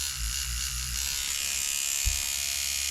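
Sewing machine driven by a 7-side driver, running steadily at low speed; a continuous close electric whirring buzz with no talking.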